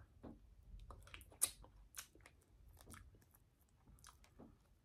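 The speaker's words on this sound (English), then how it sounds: "I'm excited for the crunch because it's all about the crunch." Crunchy frozen fruit roll-up wrapped around ice cream bitten and chewed close up, a few crisp crackling bites followed by quieter wet chewing, no talking.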